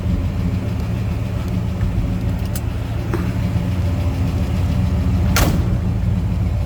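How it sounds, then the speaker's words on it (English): A 1957 Ford Fairlane 500 Club Sedan with its 292 V8 runs steadily at idle, a continuous low rumble heard alone at close range with a few faint clicks over it. "This is a good sounding car. Again, that 292 underneath the hood."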